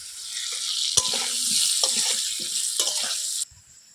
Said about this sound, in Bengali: যেমন আমি ধরিয়ে মাংসের আলু ভাজা বসিয়ে দিয়েছি